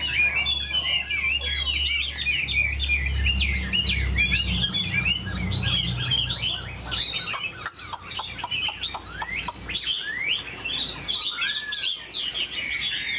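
A caged Chinese hwamei songbird, a golden three-yellow bird, sings a loud, continuous stream of varied whistled phrases and trills up close, with a low rumbling hum underneath at the start.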